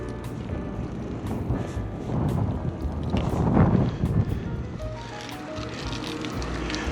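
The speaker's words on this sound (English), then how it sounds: "pretty stiff breeze blowing" A stiff breeze on a 20-degree winter day while cycling on clear streets, heard as loud, gusting wind buffeting the microphone, swelling midway and then easing, over a low rolling rumble.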